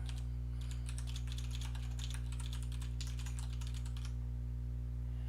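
Fingers type Emacs Lisp code on a computer keyboard in a quick, continuous run of keystrokes for about four seconds over a constant low electrical hum, then stop.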